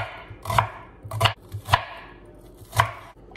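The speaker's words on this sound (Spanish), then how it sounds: "Voy a estar picando la cebolla." Several firm knife chops through onion on a board, spaced unevenly, each a crisp close thud with a slight crunch.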